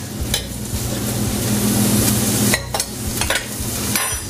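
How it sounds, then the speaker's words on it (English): Onions sizzling in butter and olive oil, a loud continuous frying hiss with a few scraping stirs and utensil clatters against the pan, close and without talk. "once we've added our onions to our butter, we'll go ahead and add our red wine"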